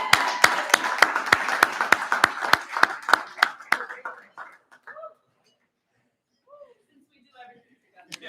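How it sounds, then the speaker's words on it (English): A graduation audience claps in a quick round of applause, sharp close hand claps that thin out and stop after about four seconds, followed by a few scattered voices. "Everyone, let's give him a round of applause for making it."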